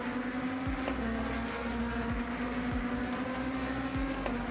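A racing-simulator car drones steadily against a BMW prototype race car, its engine holding a constant whine with a few brief shift-like dips, loud and continuous, no talk.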